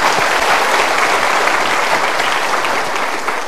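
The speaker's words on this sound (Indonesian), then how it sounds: "Kita berikan tepuk tangan dulu." An audience breaks into loud, dense applause at a motivational talk, sustained and even for a few seconds with no voices over it.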